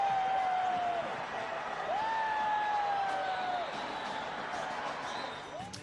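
Indian supporters at a 2003 World Cup cricket match between India and New Zealand, a steady, loud crowd roar with shrill whistle-like tones gliding over it throughout.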